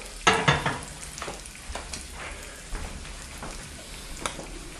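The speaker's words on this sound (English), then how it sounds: "See that egg flipping around in that pan?" An egg frying in a modified Lodge cast iron mini skillet gives a steady low sizzle, with a few scraping stirs and taps from a utensil spread through it.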